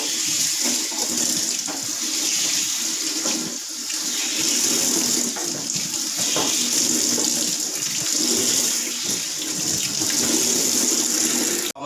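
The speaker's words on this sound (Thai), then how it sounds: "ล้างผักให้สะอาดก่อนนะครับ" Vegetables being rinsed under a running kitchen tap to go with Thai chili paste with mackerel, a steady close hiss of flowing water splashing into a sink with no pauses.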